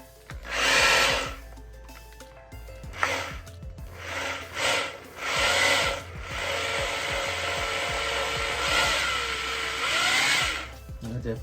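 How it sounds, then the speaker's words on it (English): An engine turned over during installation makes several bursts of whirring and grinding, then a longer stretch of steady whirring. Faint voices sit underneath. "Let's spin the motor over just a little bit."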